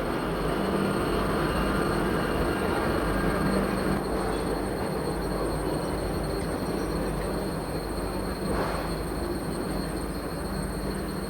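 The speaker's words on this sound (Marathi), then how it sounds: "कोल्हापूर पुणे वंदे भारत एक्सप्रेस कोल्हापूर रेल्वे स्टेशनवर आता डिपार्चर झालेले आहे." A Kolhapur–Pune Vande Bharat Express pulls away from Kolhapur railway station, a steady, moderately distant rumble of rolling train with a constant hum and no talk.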